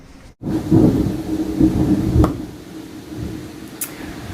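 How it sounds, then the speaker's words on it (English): Thunder rumbles through a rainstorm as a deep, sustained low roll that swells for a couple of seconds after a brief silence, then fades to a steady background rumble with a faint crack near the end. "The thunder is giving you a round of applause, Cady."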